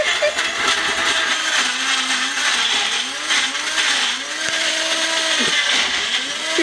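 A blender runs loud and close, whirring nonstop while it purees cloves and hot pikliz vegetables, the motor pitch wavering as the load shifts, with no talking.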